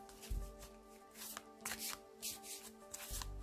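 Oracle cards from L'Oracle des Ombres being shuffled by hand, close and soft, with several quick riffling bursts and papery slides over about three seconds, no voices.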